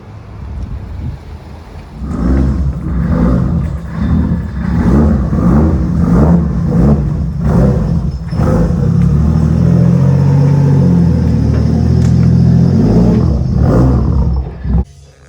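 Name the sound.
car revving while doing a donut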